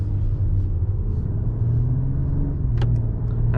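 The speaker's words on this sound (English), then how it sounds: "And now we can hear a little bit the engine" A 2021 Mercedes S-Class S500 Long engine hums in a low, steady drone, heard from inside the cabin with a faint rise in pitch.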